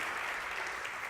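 Church congregation applauding during a Sunday Spanish-English sermon, a steady wash of dense clapping filling the room at moderate level, with a faint voice mixed in.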